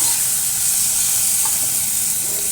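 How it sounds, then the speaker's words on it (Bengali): Steady, broad sizzling hiss of crushed garlic frying in hot oil, continuous and fairly loud, with no talking. "রসুন তেলের মধ্যে আমি ভাজা ভাজা করছি"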